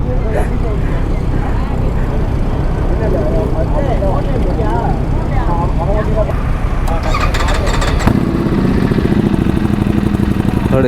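A superbike engine rumbles steadily during a test ride. The low, continuous drone shifts in tone partway through, and people talk over it throughout.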